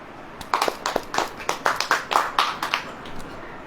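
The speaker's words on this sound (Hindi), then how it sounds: "अब ताली बजाइए" A congregation at a Hindi church worship service claps hands in a loose, uneven rhythm, roughly a dozen sharp claps spread over a few seconds, moderately close with no voices over them.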